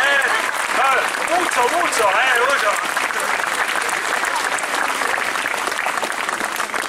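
Crowd applauding at a Molfetta confraternity gathering during the Immaculate Conception procession, with steady, dense clapping throughout and a voice speaking over it.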